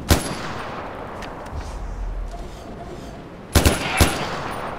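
Gunfire in the video game Far Cry 4: a sharp shot at the start, then a quick burst of two or three loud shots near the end, over quiet outdoor game ambience.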